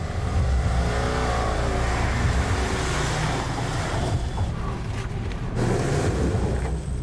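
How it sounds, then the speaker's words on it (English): A car revs hard on a muddy jungle track, its wheels spinning and churning through the mud. A loud, steady engine roar carries a wet, rushing slur of slipping tyres throughout. "Every failed attempt is churning up the mud."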